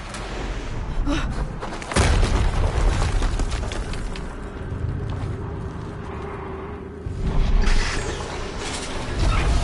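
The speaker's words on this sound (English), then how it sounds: "Another explosion." Explosions and heavy mechanical booms rumble through a battle in the video game Horizon Zero Dawn Remastered, with a sharp deep blast near two seconds and another swell later amid continuous droning machinery.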